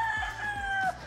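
A rooster crows nearby, one loud sustained call that cuts off abruptly near the end.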